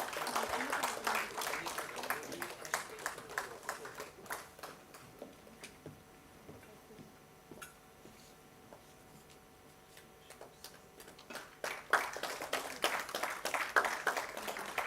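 Audience applause at a science poem prize ceremony in Goa, steady rapid clapping at moderate distance that dips into quieter sparse claps midway before swelling again toward the end.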